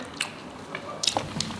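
Biting into a bolognese-filled fried bun, a beignet-style snack, giving a few soft, moist bites and squishy chewing sounds up close, fairly quiet and without talk.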